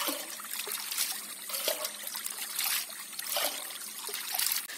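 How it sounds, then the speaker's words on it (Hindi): Water poured from a coconut shell trickles and splashes outdoors in a thin, uneven flow, close and steady, with no talking. "यहाँ से मैं कट्टी से भर रही हूँ जो नारियल का शेल होता है ना उससे पानी भर रही हूँ"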